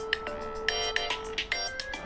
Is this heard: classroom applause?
no